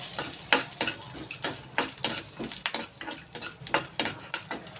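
A few garlic cloves frying in about a spoonful of oil, a close, soft sizzle broken by repeated scraping stirs of a spoon against the pan, for a brinjal chutney.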